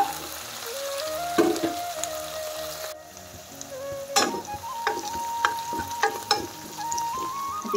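Meat sizzling in a pan with onions and ginger-garlic paste for an Assamese dish, a steady close fry broken by sharp spatters and stirring scrapes, with no talk.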